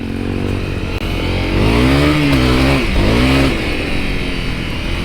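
A Honda CRF250L dirt bike engine revs and lugs loudly up close as it churns through a mud hole, its pitch climbing, wavering and dipping under steady riding noise.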